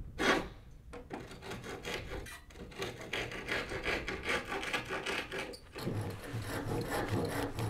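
Wood on a mansard roof being sanded by hand: continuous scratchy rubbing strokes, close and fairly quiet, with a steady back-and-forth texture and brief pauses between passes.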